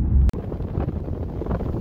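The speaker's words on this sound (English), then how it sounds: "super windy out here" Strong wind at the beach in Ocean City buffets the microphone as a loud, continuous low roar with gusty rumble and a brief dropout, no voices.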